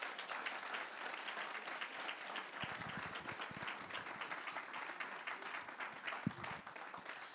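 Sustained audience applause for contestants at a district talent hunt program, a steady wash of many hands clapping throughout at moderate level with no voices over it.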